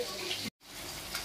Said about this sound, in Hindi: ये देखिए बड़ा वाला ऑल राउंड डाल दिए हैं मछली फ्राई होने के लिए।